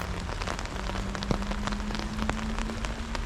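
Quiet rain falls outdoors in winter Kaliningrad, a steady soft patter of drops on surfaces with faint scattered ticks and a low background hum.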